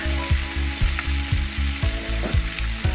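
Chopped onion, tomato and capsicum frying in a pan sizzle loudly and up close while a utensil stirs them, with regular scraping strokes roughly every half second over the hiss.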